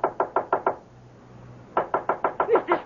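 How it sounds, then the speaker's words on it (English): Knuckles rap on a locked door in a radio drama: a quick run of five sharp knocks, a short pause with a low hum, then six more knocks, close and loud. "Oh, knock on it, knock."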